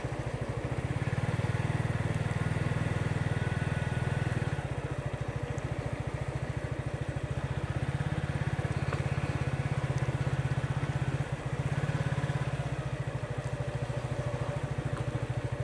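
A new motorcycle rides through a village near Charkhai in Beanibazar, Sylhet, Bangladesh, its engine giving a continuous, close, steady drone with a low throbbing hum from start to finish.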